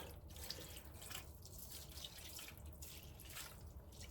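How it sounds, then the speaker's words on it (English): Beef stock is poured over a pot roast in a slow cooker, giving a faint, steady trickle and splash of liquid that runs alone for several seconds. "you're just going to pour that right on top"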